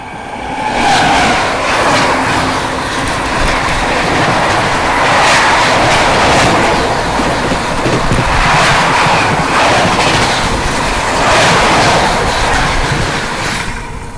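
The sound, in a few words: Sealdah Ajmer Express train passing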